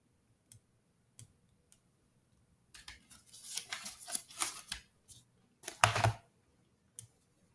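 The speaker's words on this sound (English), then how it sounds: "So I will get that calculator out and model with that. So on a TI," Keys on a Texas Instruments TI calculator are pressed in quiet, scattered clicks: a few isolated taps, then a denser burst of rapid presses and a couple of final taps.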